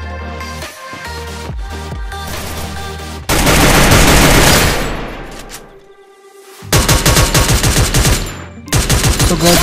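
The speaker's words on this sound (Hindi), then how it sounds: "मुझे एक बंदे की फायरिंग आती है" Video game gunfire in a battle-royale match: loud bursts of rapid automatic shots and single cracks, broken by a brief lull and then resuming in fast, heavy volleys close up.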